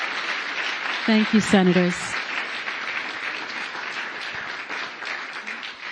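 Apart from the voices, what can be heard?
applause for the first panel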